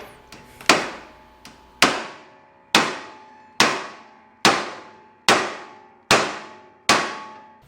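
A hammer taps the bent axle of an Ariens riding lawn mower: about nine sharp metallic clangs, each ringing briefly before the next, spaced roughly a second apart, close and loud with no talk.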